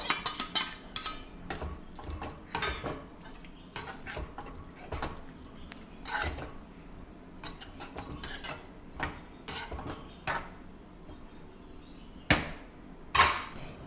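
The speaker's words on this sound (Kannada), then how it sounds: "ಇವಾಗ ಮಸಾಲೆ ಜೊತೆ ಕಾಳು ಆಲೂಗಡ್ಡೆ ಎಲ್ಲ ಚೆನ್ನಾಗಿ ಮಿಕ್ಸ್ ಆಗಲಿ ಮಸಾಲೆ ಜೊತೆ" A spoon clinks and scrapes in a pan as boiled potatoes and legumes are stirred into masala, with quiet, irregular taps and knocks and occasional sharper metallic hits against a soft background.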